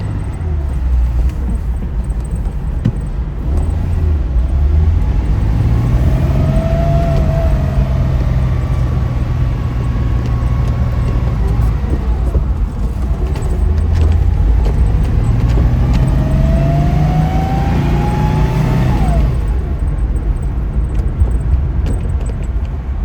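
A 1970 Porsche 914-6 engine drones steadily from inside the moving car as it speeds up, the pitch rising and falling through gear changes under constant road and wind noise, with no talking.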